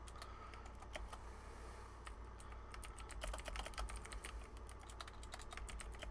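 Steady typing on a computer keyboard, a quick irregular patter of close, soft key clicks continuing throughout with no talking.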